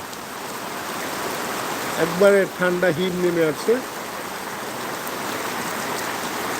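Heavy rain pours steadily at night in Phulpur, a constant close hiss of falling water, with someone speaking briefly over it partway through.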